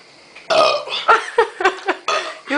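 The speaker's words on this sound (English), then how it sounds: "Burp, Sarah, go." Sarah burps loudly during a burping contest after drinking pop, a string of several throaty belches in quick succession, close and alone.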